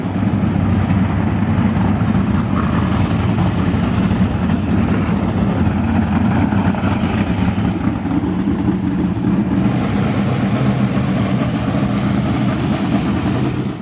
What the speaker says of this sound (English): gonna fire up for some engine heat, get a couple practice laps